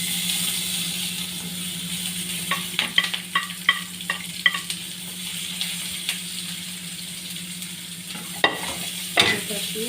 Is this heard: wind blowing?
no